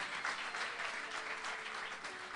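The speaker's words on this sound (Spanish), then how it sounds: "Dale un aplauso al Señor" Church congregation applauding for the Lord during a Spanish-language sermon, a steady dense wash of many hands clapping at moderate distance, sustained without pause.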